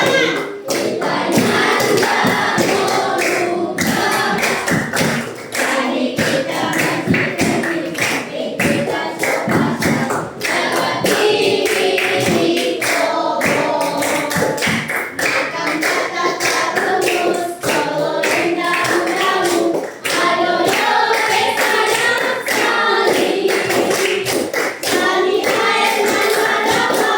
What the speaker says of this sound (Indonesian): Kami tepuk tangan.